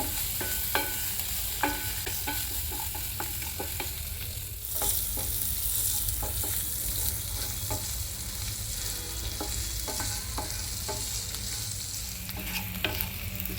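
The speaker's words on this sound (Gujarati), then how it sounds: "એક ટીસ્પૂન ભરીને જીરું ચપટી હિંગ નાખીને સાથળી લઈએ આ બધો મસાલો પાંચથી સાત મિનિટમાં સતળાઈ જશે" Cumin seeds and a pinch of asafoetida sauté in a pan with a steady sizzle, broken by repeated sharp scrapes and clicks of stirring throughout, heard alone without talk.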